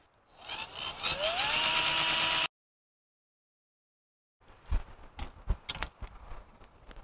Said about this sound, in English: As you can see, we drilled a hole through it.